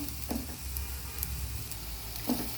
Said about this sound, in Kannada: ಹಸಿಮೆಣಸಿನ್ಕಾಯಿ ಒಂದು 7ರಿಂದ 8 ಹೆಚ್ಚಿಟ್ಟಿದ್ದೀನಿ ಸಣ್ಣಗೆ, ಅದನ್ನ ಹಾಕ್ತಾಯಿದ್ದೀನಿ. ಇದು 1 ನಿಮಿಷ ಚೆನ್ನಾಗಿ ಫ್ರೈ ಆಗಬೇಕು.